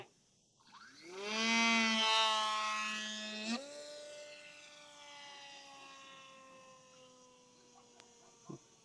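The electric motor of a scratch-built KF2 aerofoil foam model plane whines up sharply to a loud high-pitched peak, then drops and holds a steadier buzzing tone as it draws away, with a couple of faint knocks near the end.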